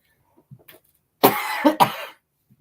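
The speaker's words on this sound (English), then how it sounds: "Love those allergy dry coughs." A couple of sharp, dry coughs close up, preceded by faint small noises, with quiet around them.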